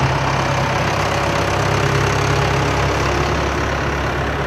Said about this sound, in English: The engine is a Perkins 4-cylinder, 72-horse engine.